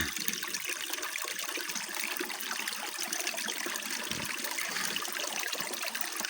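Water trickles and burbles continuously, a small forest stream running close by with a bright, splashing hiss and no voices.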